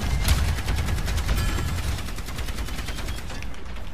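Overwatch 2 gunfire, loud and close, with rapid automatic bursts hammering continuously throughout and a heavy low rumble underneath, and no talking.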